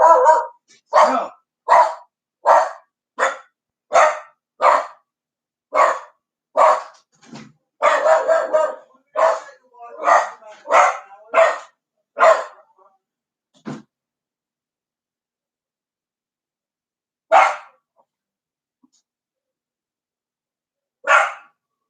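A dog barks loudly and repeatedly in a fast, steady series of close single barks, then pauses and gives a few more isolated barks, with no speech over it.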